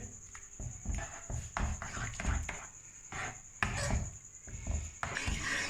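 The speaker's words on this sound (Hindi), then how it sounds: "सेवइयाँ ऐड करने के बाद इसे अच्छे तरीके से मिक्स करेंगे कस्टर्ड के अंदर" Vermicelli being stirred into custard, a spoon knocking and scraping against the pot in an irregular run of soft clunks over a steady high kitchen hum.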